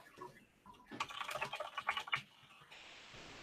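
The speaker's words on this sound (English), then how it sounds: "So while I'm typing things, because I'm responding to people messaging me in other apps" Rapid typing on a computer keyboard, a close, dense burst of clicking keystrokes in a quiet room, trailing off into soft background hiss with no speech.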